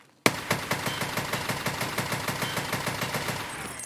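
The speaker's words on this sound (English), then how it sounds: "this weapon is pretty good from close range just by firing from the hip" RSASS rifle in Escape From Tarkov fires from the hip in a rapid, evenly spaced string of about fifteen loud, close shots with no speech.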